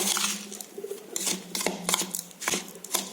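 A spoon scrapes and clinks in a bowl, mixing coarse-grained sugar into a sweet filling for crispy stuffed malpua, with repeated close metallic taps and scrapes in an uneven rhythm.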